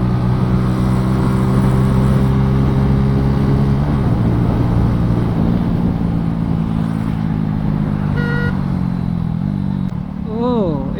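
A motorbike overtakes on a highway with a loud, continuous engine drone close by, its pitch sliding gradually lower while wind rushes past throughout.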